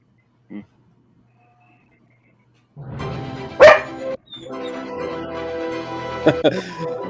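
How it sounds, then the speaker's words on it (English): A dog barks a couple of times, sharp and fairly close, within a Microsoft Xbox E3 trailer's soundtrack, with music and background sound mixed in around it. "That was a weird choice Microsoft made to have a dog bark."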